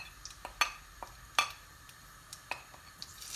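Mustard seeds and spices sizzle in hot oil, giving a faint background hiss broken by a handful of sharp, scattered pops and crackles with no talking.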